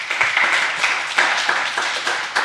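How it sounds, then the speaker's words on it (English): A crowd applauds startup founders after their pitches, a steady wash of many hands clapping for a couple of seconds, fairly loud and close, with no speech. "round of applause for all the founders who pitched"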